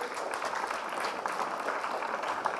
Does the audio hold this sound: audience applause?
yes